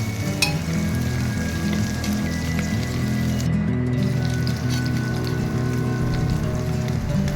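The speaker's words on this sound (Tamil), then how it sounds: "இதையும் லைட்டாக வதக்கி விட்டுக்கலாம்" Green chillies sautéing in hot oil give a steady, close, rain-like sizzle and crackle that runs unbroken from start to finish.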